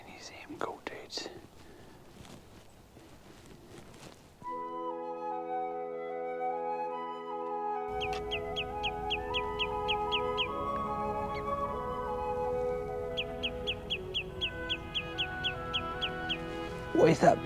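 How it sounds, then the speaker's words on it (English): Rapid runs of high chirping bird calls repeat in bursts over a steady tonal drone, after some faint breathy sounds at the start. "What is that bird sound"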